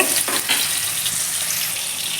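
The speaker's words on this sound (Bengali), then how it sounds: "তেল গরম হয়ে গেছে মাছ ভাজা মাছ ছেড়ে দিচ্ছি" Mrigal fish pieces frying in hot oil, a steady loud sizzle with crackling spits, close and continuous with no talk.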